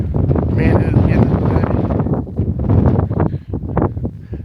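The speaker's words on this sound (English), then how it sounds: "But it is windy." Strong gusting wind buffets the microphone on a cold mountain morning along the Appalachian Trail, a loud, continuous broadband roar that surges and dips in waves with no talking.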